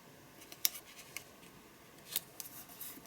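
Paper being trimmed with scissors at a craft desk: a few quiet, crisp snips spaced apart, each a short bright cut, with no talking.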